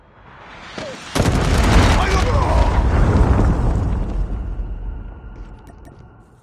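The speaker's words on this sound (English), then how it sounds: "Hostile predator missile inbound" A predator missile explodes in Call of Duty: Mobile with a sudden loud boom that rumbles and slowly decays over several seconds, amid faint game mechanisms and a brief voice.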